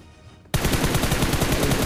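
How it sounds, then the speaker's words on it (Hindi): Automatic gunfire in the mobile battle royale game BGMI bursts in after half a second of quiet: a loud, rapid, continuous volley of shots with no talk over it. "कहाँ गोली चला पड़ती नहीं बंदे में।"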